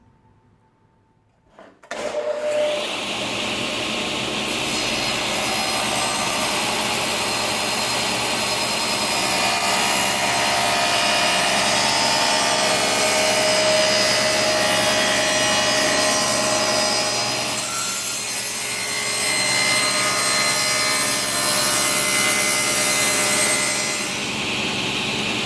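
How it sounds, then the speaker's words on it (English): A table saw shaves down the edge of an oak board inlaid with copper and resin, starting abruptly and running as a loud, steady, whining cut for over twenty seconds before easing off near the end. "I'm going to shave down the wood as close to the resin as I can get on the table saw"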